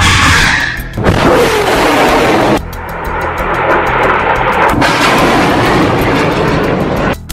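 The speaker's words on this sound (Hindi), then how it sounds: "हमास एक के बाद एक 10 रॉकेट फायर करता है" A Hamas salvo of rockets launches one after another from Gaza as a loud, continuous roaring rush, with fresh blasts breaking in every second or two.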